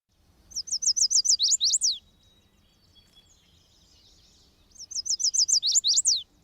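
A songbird sings two bursts of rapid, rising chirps ending in a quick sweeping phrase, separated by a short quiet pause, clear and fairly close.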